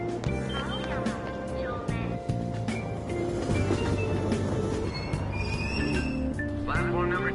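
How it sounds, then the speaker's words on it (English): A subway train pulls out of a station in the video game Persona 5 Royal, a loud steady rumble and hum with faint metallic whines, while a voice speaks over it throughout. "Train doors are now closing."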